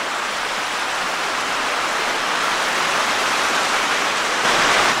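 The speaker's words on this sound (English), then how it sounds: "But we got a waterfall." A tall waterfall near an old railroad bed pours in a steady, dense broadband rush of falling water, constant and moderately loud throughout, with no voices.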